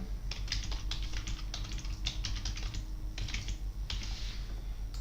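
A computer keyboard clatters in quick bursts of keystrokes while a password is typed, close-up with short pauses between runs of keys over a steady low background hum.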